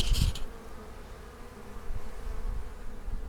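Honeybees active around a hive in winter, a soft continuous buzzing drone close by after a brief sharp knock at the start.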